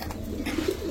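Pigeons coo softly and continuously at a pigeon market selling racer and fancy breeds, low murmuring calls close by amid steady background noise.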